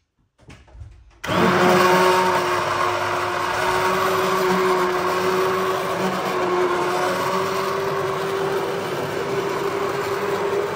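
A blender starts abruptly after a short clatter and runs loudly and steadily, blending plums for jam, its motor whining with a churning, grinding roar until the end.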